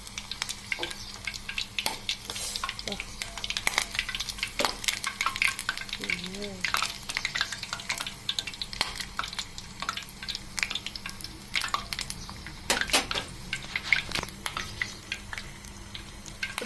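Aloe vera juice crackles and sizzles in a hot pan, with many sharp pops and spits scattered irregularly over a steady low frying hiss, close and moderately loud, and a brief voice heard once.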